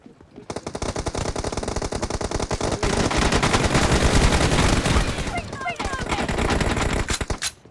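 M4 rifle gunfire in a sniper video game rattles in rapid sustained bursts, loud and close, with brief pauses between volleys and voices faintly under the shooting.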